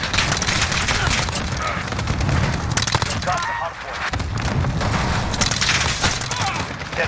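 Uzi fire in Modern Warfare comes through as a dense, continuous stretch of rapid gunshots and bursts, loud and close, with a voice talking over parts of it.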